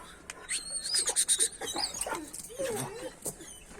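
A dog whimpers and yips in short high squeals, fairly close, with soft background noise and some scattered movement.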